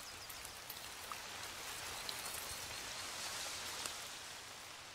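Steady rain patters on forest trees, a dense even hiss of drops on leaves with occasional closer drips, continuous and moderately loud with no voices.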